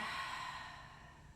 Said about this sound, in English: We're gonna breathe in like we're smelling it, and then breathe out.